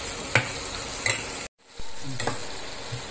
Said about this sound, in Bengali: ভাজা হয়ে গেছে সমস্ত মশলাটা সুন্দর করে।